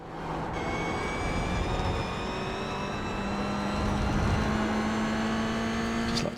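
Race car engine in a racing video game held in short low gears, a steady high-revving drone with rising pitch as it accelerates, continuous and close throughout, no talking.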